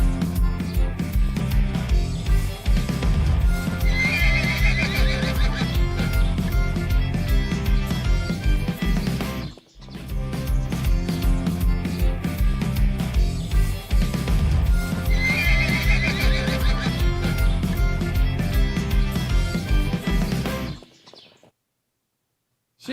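Horse neighing and whinnying over steady clip-clopping hooves, loud and continuous with bird chirps mixed in, briefly cutting out midway before resuming and then ending abruptly.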